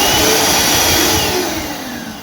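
Loud, close whoosh of the built-in hand dryer on an automatic hand wash unit in a clean public toilet, a steady roaring airflow that eases off slightly toward the end.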